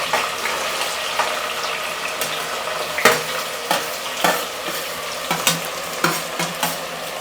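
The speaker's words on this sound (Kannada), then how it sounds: "ನೆಕ್ಸ್ಟು ಈರುಳ್ಳಿ ಹಾಕಬೇಕು ಸ್ವಲ್ಪ ಎಣ್ಣೆ ಕಾಯ್ದಿದೆ ನಿಧಾನಕ್ಕೆ ಹಾಕಬೇಕು" Chopped onions going into hot oil for a chicken gravy give a steady frying sizzle, broken by sharper stirring knocks and scrapes that come more often toward the end.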